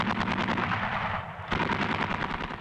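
Rapid bursts of 20 mm machine cannon fire ring out loud and close, each burst a dense rattle of shots, with a brief lull before firing resumes.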